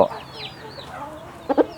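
A sick chicken with indigestion gives short clucks and faint chirpy calls, ending in two quick louder clucks close by.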